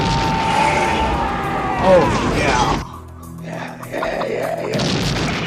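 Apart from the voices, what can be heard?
explosions in the film Tango & Cash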